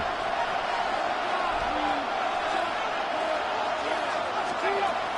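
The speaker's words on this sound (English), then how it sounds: "this crowd is making an impact right now" A dense, roaring football stadium crowd cheers continuously in the distance, a steady wash of noise with a few shouts and whoops rising out of it.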